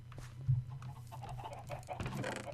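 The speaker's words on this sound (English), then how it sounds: "Wonder how the chicken farm is getting on." Blocky chickens on a Minecraft chicken farm cluck in short bursts over a steady low hum, with one louder cluck standing out near the start.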